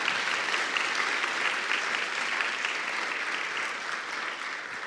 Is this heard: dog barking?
no